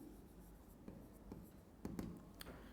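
Marker or chalk strokes on a board during a physics lesson, a steady scratching rhythm with a few sharper taps, close and fairly quiet, no talking.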